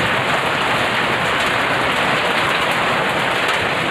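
Heavy rain pours down steadily and loudly during an outdoor roast-pig gathering, a dense, unbroken hiss of drops on surfaces with no voices over it.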